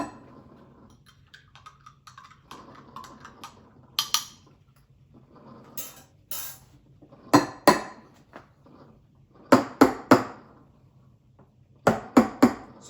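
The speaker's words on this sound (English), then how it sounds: "So knock the jug on the counter." A small steel milk jug of frothed milk is knocked against a kitchen counter beside a Breville Barista Express, giving sharp metallic clanks in quick pairs and clusters, close and clear against a quiet background.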